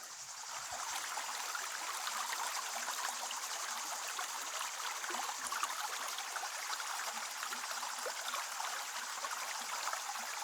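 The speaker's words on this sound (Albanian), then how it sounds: "nuk ka gjë më relaksuese se sa zhurma e ujit" A stream flows steadily among orange groves, a continuous bright rushing and trickling wash of water heard alone at moderate level throughout.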